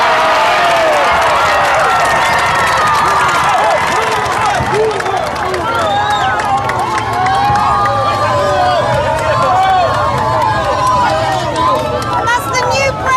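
A large crowd at the Paraguayan presidential inauguration procession, loud and close, with a dense wash of cheering, whistles and shouting voices that stays constant.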